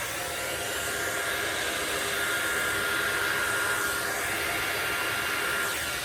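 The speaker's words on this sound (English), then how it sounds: "We'll use the hair dryer again." A hair dryer blows in a steady, continuous rushing hiss, close and even for the whole stretch with no voices.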